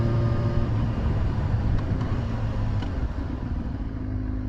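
Yamaha YZF-R6 motorcycle engine idling after a missed shift into neutral, a steady close rumble with dense low harmonics holding level throughout, no voices.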